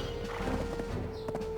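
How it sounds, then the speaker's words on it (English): Donkey hooves clip-clop on the ground in Black Desert Online, a steady run of soft hoof beats under a constant game ambience with a faint animal call near the end. "somebody there riding around a goddamn donkey"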